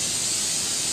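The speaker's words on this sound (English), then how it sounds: "we're just going to take a little bit of pan spray" Cooking pan spray hissing steadily from an aerosol can onto a pan being heated, a loud, close, continuous spray with no break.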